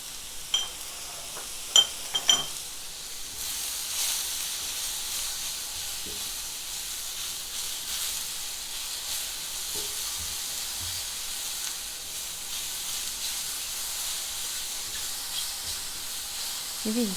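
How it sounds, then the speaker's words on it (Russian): Steady sizzling hiss of mushrooms frying in a pan, with a few clinks and scrapes of a utensil early on. "И видите, они буквально быстро жарятся."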